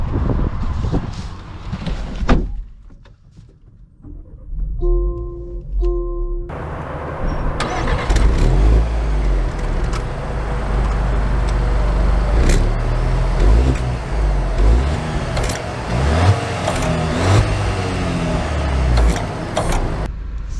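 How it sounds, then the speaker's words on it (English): A 2023 Land Rover Discovery Sport R-Dynamic SE chimes and starts with a short engine crank, then settles into a steady engine hum and road noise as it pulls away, heard from inside the cabin. "So, setting off here in the Discovery Sport."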